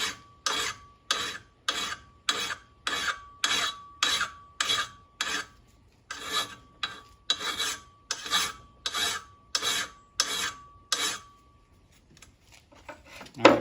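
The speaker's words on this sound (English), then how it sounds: "And I can see as I'm filing where my high spots are." A hand file is worked flat across the ear of a Datsun 280Z drive shaft u-joint. About twenty steady rasping strokes come close and clear in a regular rhythm, with a brief pause midway, and no talking.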